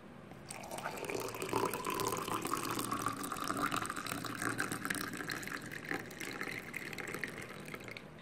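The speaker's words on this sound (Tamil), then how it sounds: "கடைசியாக கொதிக்க வச்ச தண்ணியை இதில் 1 கிளாஸ் அளவுக்கு ஊற்றணும்" Freshly boiled water poured into a glass over a powdered ingredient, a steady continuous liquid stream filling the glass up close for several seconds with no talking.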